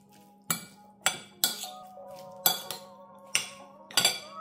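A salad seasoned with salt and pepper being mixed in a bowl, with a utensil striking the bowl in about eight sharp, close clinks at an uneven pace under a faint steady hum.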